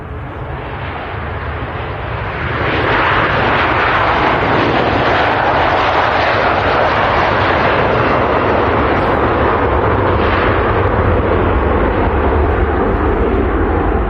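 An aircraft on final approach at Manchester Airport makes a loud, broad roar that swells after a few seconds and holds steady and close.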